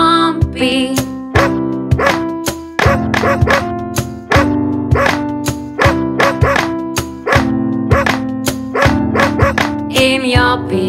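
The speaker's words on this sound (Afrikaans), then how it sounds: "Die plaas is daar 'n hond en Japie is sy naampie." A dog barks repeatedly in quick, rhythmic bursts, loud and close, set against a bright musical backing throughout.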